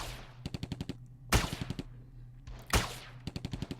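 Nearby bursts of rapid gunfire from a BLP weapon, each volley a quick string of five or six sharp cracks, separated by two louder single blasts, all close and loud with no talking.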